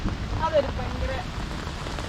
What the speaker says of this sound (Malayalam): അങ്ങനെ മഴയൊക്കെ കൊണ്ട് നടക്കുമ്പോൾ ഉണ്ടല്ലോ